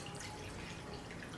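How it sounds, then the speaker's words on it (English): Warm water poured into borax in a bowl, a faint, steady trickling splash that runs without pause for a moment and is heard alone. "you're going to get a ½ cup of warm water into the borax"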